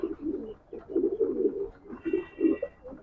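Soft, throaty pigeon coos repeat in low rolling phrases, close by, with a faint higher whistle-like tone drifting in partway through.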